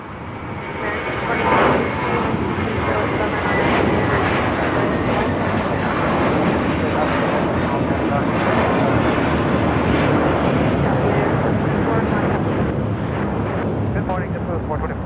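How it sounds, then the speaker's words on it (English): A JetBlue Airbus A321 in Mint livery takes off, a loud, steady roar of jet engines that swells and holds at full power for the whole stretch. "This is JetBlue, Flight 424, taking off to JFK on an A321 in the first Mint livery."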